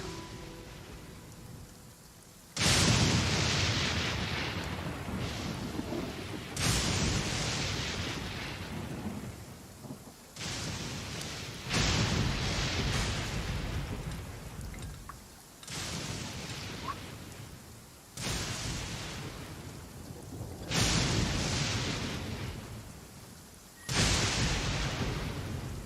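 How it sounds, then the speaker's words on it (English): Repeated loud thunder rumbles during a storm with rain, several separate peaks rolling in one after another over steady rainfall, close and heavy. "Y'all are probably tired of hearing the thunder in the background."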